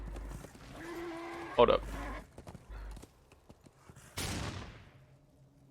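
Horse hooves clip-clopping in the video game Darksiders 2, a rhythmic trot heard under someone talking, with a couple of sharp gunshot bursts cutting through.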